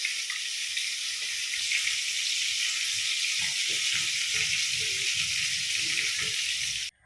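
Masala-coated fish fries in a pan with a loud, steady, close sizzle and crackle that holds for about seven seconds, then cuts off abruptly; no one speaks.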